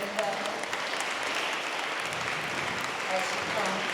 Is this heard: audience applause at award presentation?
yes